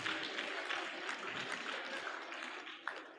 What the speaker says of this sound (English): You better clap well.